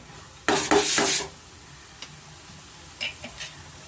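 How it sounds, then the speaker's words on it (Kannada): A spoon stirs aloo menthya curry in a pan, a short burst of scraping and clinking, then a plate set over the pan with a few light taps and clicks, all close and fairly quiet. "ಇವಾಗ ನೀಟಾಗಿ ಮಿಕ್ಸ್ ಮಾಡಿಕೊಟ್ಬಿಟ್ಟು ಪ್ಲೇಟ್ ಮುಚ್ಬಿಡೋಣ"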